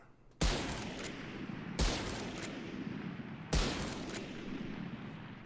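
Three sharp, loud rifle shots from the Marshal sniper rifle in Valorant, spaced about one and a half seconds apart, each a hard crack with a short decaying tail, heard alone without talk.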